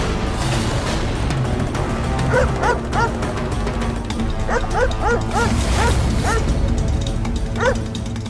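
A dog gives repeated short yipping barks in quick clusters, fairly close, over a dense, continuous background din.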